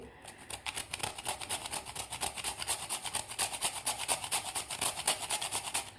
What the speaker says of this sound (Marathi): त्यामुळे थोडंसं आपल्याला जायफळ खिसून घालायचं आहे यामध्ये.